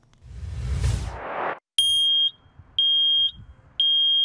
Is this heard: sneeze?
no